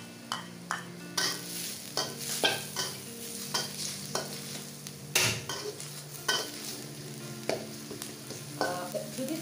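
Minced onion and garlic fry lightly in a little oil, a steady close sizzle broken by repeated sharp scrapes and clinks of a spoon stirring against the pan.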